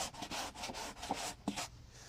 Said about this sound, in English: I'm using 220 grit here, which is aggressive enough to level my primer surface around